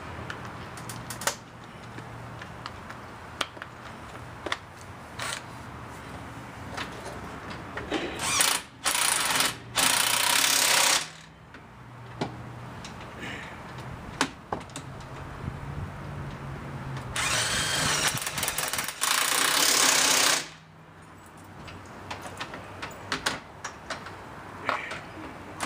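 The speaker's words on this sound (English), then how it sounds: "Get the iron ratchet." A 15 mm socket on a ratchet tightening a bolt during a hub bearing replacement on a 2008 GP, with steady clicking and mechanical rattling, plus two loud whirring power tool bursts in the middle, close and without talk.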